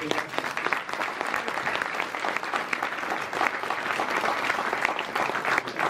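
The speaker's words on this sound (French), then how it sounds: "Je voudrais qu'on vous applaudisse encore" Sustained applause from an audience at a school inauguration ceremony, a steady, dense crackle of many hands clapping that continues for the full stretch without a break.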